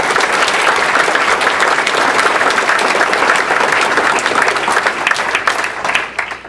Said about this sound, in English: let's give them a round of applause for their support for this debate.